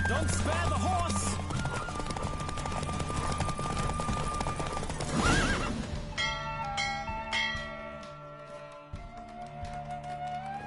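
A horse gallops in a race in The Witcher 3, with steady hoof clip-clop and a whinny, plus a loud burst near the middle, then ringing bell-like tones as the galloping fades out.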